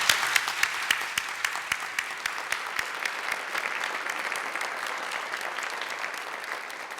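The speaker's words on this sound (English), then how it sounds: "Let's give this amazing group of leaders another round of applause." Audience applause at the 2022 Trafficking in Persons Report launch ceremony honoring anti-trafficking heroes, with sharp individual claps up front that blend into a dense, sustained round of clapping.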